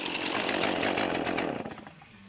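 A chainsaw cuts wood in a forestry setting in Styria, a loud, close, buzzing whine held steady for a couple of seconds before winding down at the end.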